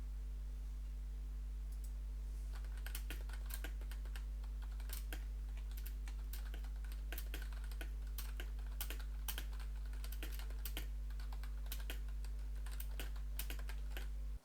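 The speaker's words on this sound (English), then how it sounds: "Now I'm going to be typing on the keyboard in front of the microphone" Close, rapid typing on a computer keyboard, with keys clattering in quick irregular bursts over a low electrical hum.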